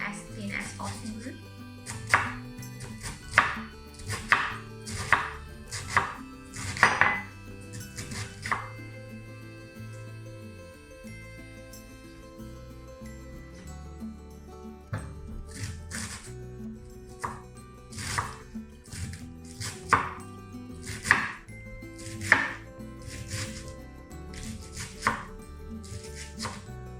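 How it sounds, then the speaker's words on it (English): Cabbage being sliced thinly with a knife, irregular runs of crisp chopping strokes on a board close by, with a low background hum and occasional talk. "take out the middle core of the cabbage. And just slice it as thin as possible"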